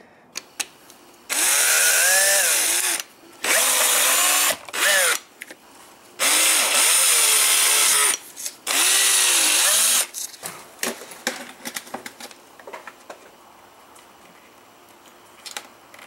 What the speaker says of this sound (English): then we will just simply drill the 2 holes over here